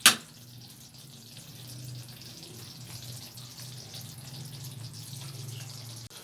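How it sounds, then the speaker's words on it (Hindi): Water running and trickling as it is drained off soaked semolina for halwa, a steady soft pour that continues after a sharp knock at the start. "अब हम इसका पानी निकाल लेंगे।"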